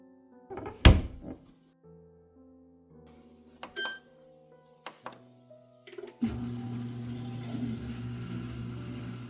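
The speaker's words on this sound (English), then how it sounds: "close all the doors and run the dishwasher" A dishwasher door and compartment lids shut with sharp thunks and clicks. After a short pause the machine starts and settles into a steady low running hum and whir.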